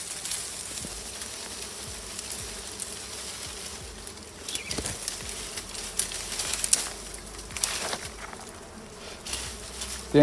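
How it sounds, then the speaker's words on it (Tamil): Honey bees swarm around a wild comb in a village setting, a continuous buzzing drone with sharper passes of individual insects flying close, no talking. "இது கொம்பு தேன் அவ்வளோவும் கடிக்காது"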